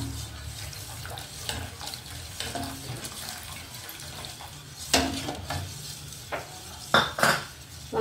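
A spoon stirs custard powder mixed with milk into a pot. There is a steady scraping and swirling with faint liquid sounds and a few sharp clinks of metal on the pot, close by.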